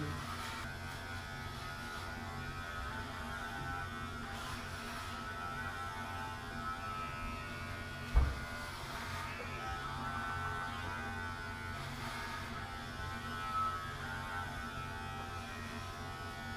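An electric hair clipper cutting hair at home, a steady close buzzing hum that runs without a break, with one brief knock partway through and no talking.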